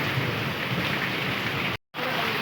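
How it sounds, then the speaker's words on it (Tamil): Heavy rain pours steadily during a thunderstorm on a rainy Karthigai Deepam evening, a dense close hiss broken only by a brief cut near the end; the thunder itself is not clearly separable. "பயங்கரமாக இடி இடிச்சிட்ருக்குது."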